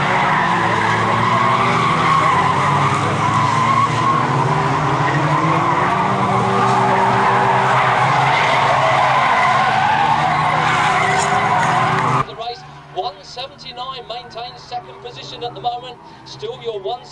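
Stock cars racing at Bovingdon Raceway, with loud continuous engine roar and tyre skidding for about twelve seconds under a commentator's voice, then cutting abruptly to quieter background noise and talk.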